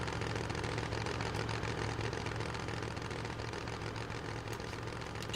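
A monster truck engine idles at the start line in Rigs of Rods, giving a steady, continuous low drone with a constant hum and no other sounds.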